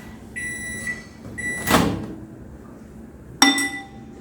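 A microwave oven heating milk and water for masala tea gives a few short electronic beeps, each followed by a sharp clunk of the door or a glass knock, close by and without talk.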